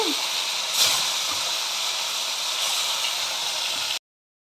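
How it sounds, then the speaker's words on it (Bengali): Steady broadband hiss of fish frying in hot mustard oil in a wok, loud and continuous, with a brief crackle burst early on before it cuts off. "আমি মাছগুলো ভেজে দেব।"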